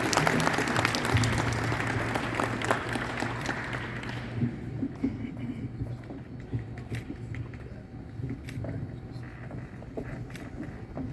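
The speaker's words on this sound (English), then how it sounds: "Let's give them a big round of applause." An audience at a convention opening ceremony claps in a broad wash of applause that fades after a few seconds into quieter scattered clapping and murmur.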